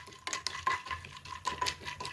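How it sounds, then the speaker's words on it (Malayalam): Roasted peanuts are stirred in hot coconut oil with a utensil, producing soft, rhythmic scraping and rattling strokes against the pan with a faint sizzle beneath, quiet and close. "വറുത്ത നിലക്കടല ആ എണ്ണയിലേക്കിട്ട് അത് നന്നായിട്ട് പൊരിച്ചെടുക്കുക"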